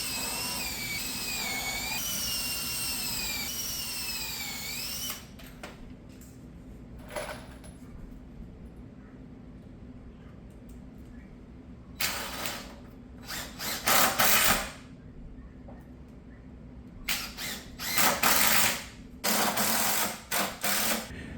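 A power drill drives screws into roost support boards for a turkey poult coop, heard as several short whirring bursts with quiet gaps between them, close by, after a few seconds of other mechanical noise at the start.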